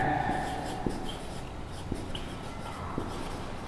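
Marker or chalk scratching across a board while chemistry notes on the Daniell cell are written up, heard as faint, soft strokes with a few sharper taps over a quiet room.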